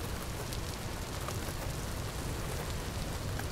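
Steady, dense rain in the video game Vintage Story, a constant even hiss that fills the whole stretch with no voices.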